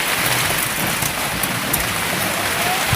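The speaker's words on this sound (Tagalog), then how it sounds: "Tabag lang sa ulan." Steady rain pours down outdoors at a rural house-building site, a dense, even hiss of drops striking surfaces that stays loud and unbroken throughout, with no voices.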